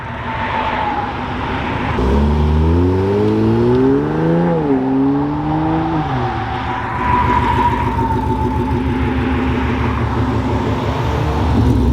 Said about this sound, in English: We're watching the Supra and the twin turbo Mustang leave.